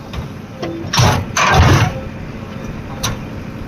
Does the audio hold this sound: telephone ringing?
no